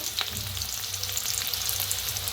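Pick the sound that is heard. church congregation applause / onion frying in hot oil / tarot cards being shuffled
onion frying in hot oil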